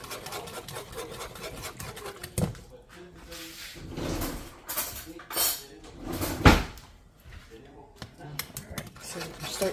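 A spoon scrapes and stirs thickening beef gravy for pasties in a metal pot, giving rhythmic rasping and clinking against the sides, with occasional sharper knocks.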